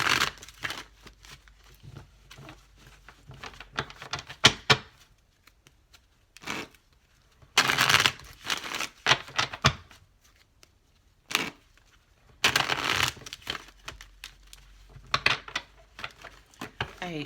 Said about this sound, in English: I hate shuffling these cards sometimes.